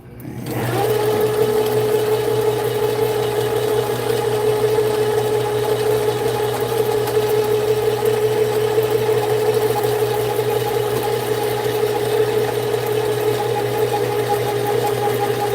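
A line spooling machine winds 40 lb super slick braided line onto a reel, a steady close mechanical whir with a constant tone that runs unbroken throughout, with no talking.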